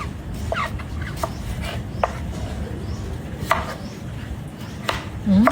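Vegetables for a Thai sour curry are chopped on a board with a knife, giving scattered, uneven clacks against a low background with faint voices.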